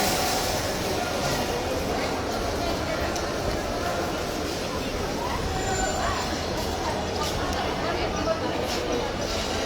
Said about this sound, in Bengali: আমি এই মুহূর্তে আছি ঢাকার কমলাপুর রেল স্টেশনে